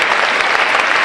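A church congregation applauds in worship, a loud, dense burst of many hands clapping together from up close, filling the short moment without pause.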